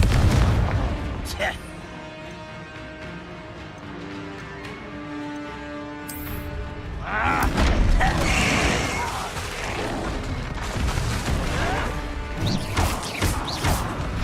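Repeated Confringo spell blasts fired in Hogwarts Legacy, loud crashing booms and smashing impacts layered over game music and effects, with a burst of louder explosive activity in the second half.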